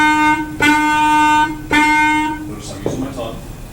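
A clarinet sounds a held F, starts again, then falls silent for a rest before a fainter G begins, with softer sounds in the quiet stretch near the close.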